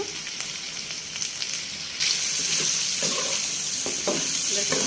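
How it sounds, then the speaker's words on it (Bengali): Spices sizzle and fry in oil for a liver curry, a steady crackling hiss that jumps louder partway through as the masala is stirred, with occasional scraping of the spoon. "তেলের মধ্যে সুন্দর করে কষাচ্ছি আমরা"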